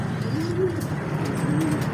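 A racing pigeon coos softly nearby, a few low rolling calls over faint background hum, under overcast skies.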